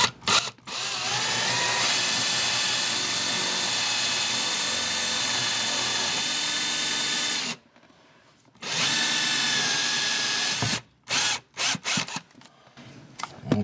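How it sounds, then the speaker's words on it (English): A power drill bores through a house wall to run coaxial cable, a loud continuous whine lasting about seven seconds, a brief pause, then another run and several short bursts near the end. "I'm just going to find a spot and drill."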